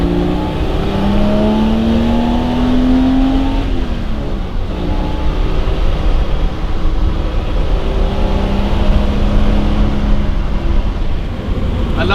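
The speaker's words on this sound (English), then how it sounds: "I just love the torque and the grunt of a straight six, especially an old one." An old BMW straight-six engine on a classic BMW revs steadily and loudly, its rising and falling drone filling the whole stretch with no talk over it.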